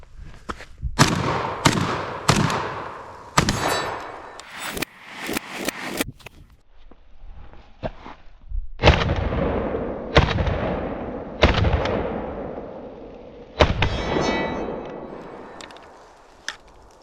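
Shots from a Fostech Origin 12 semi-automatic shotgun fired outdoors at soda cans around sundown, a string of loud sharp blasts at irregular intervals, each with a ringing echo trailing off, heard alone without talk.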